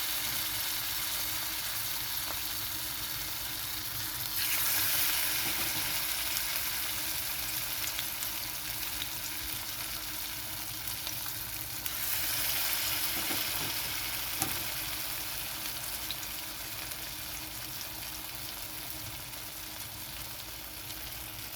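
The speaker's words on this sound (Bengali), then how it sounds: "বড়াগুলো ভেজে নেব।" Green banana peel fritters fry in hot white oil in a frying pan, a steady, close sizzle that swells slightly as more pieces go in, with faint clinks of a utensil and no speech.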